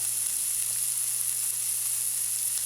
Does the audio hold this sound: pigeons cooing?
no